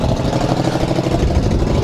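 A 2009 Buell 1125R motorcycle engine runs through a loud, stock-looking exhaust, a close, heavy, pulsing idle with a rough throb and no voices.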